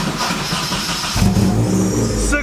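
A Nissan 240SX engine cranks and catches after a new starter is fitted, the grinding crank giving way to a rough, rising idle close by, with no talk over it.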